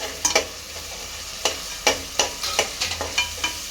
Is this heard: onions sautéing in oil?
yes